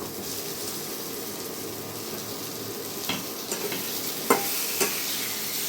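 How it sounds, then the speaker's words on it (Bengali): Onions and small tomatoes fry in a pan, a constant close sizzle with occasional knocks and scrapes of a spoon stirring, no speech. "টমেটোগুলো গলে যাওয়া পর্যন্ত আমি জাল দিয়ে নেবো"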